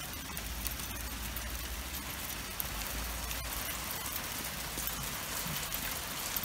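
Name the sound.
pea-sized hail falling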